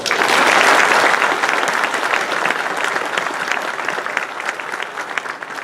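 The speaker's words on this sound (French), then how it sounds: "je pense qu'on peut les applaudir" A ceremony audience at a town medal event applauds graduating baccalaureate students, a full, continuous round of clapping that starts loud and eases slightly while staying steady to the end.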